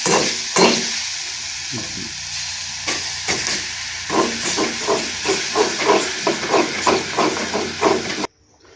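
Five eggs scrambled in a hot frying pan, a loud continuous sizzle and hiss with repeated scraping stir strokes in quick rhythm, close up with no talk, cutting off sharply at the end.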